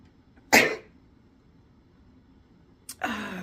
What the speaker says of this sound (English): I get a sneeze coming on